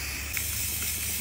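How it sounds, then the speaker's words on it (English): Aerosol spray paint can hissing onto screws pushed upright into a block of styrofoam, a steady close, broadband spray running throughout without talk. "I'm also gonna spray paint the screws"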